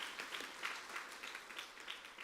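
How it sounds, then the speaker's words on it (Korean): Faint, scattered clapping from a church congregation during a Sunday morning worship service, a thin patter of hands for a couple of seconds with no voices on top. "박수하겠습니다"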